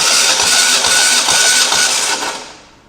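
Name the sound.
starter motor cranking boat engine during dry compression test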